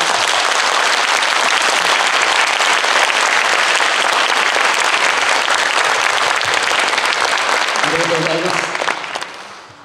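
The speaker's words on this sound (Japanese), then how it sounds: "皆さん、もう一度大きな拍手を。" Loud, sustained applause from a concert hall audience after a Nagasaki men's choir performance, dense clapping filling the whole stretch before tapering off at the end, with brief cheering or voices near the close.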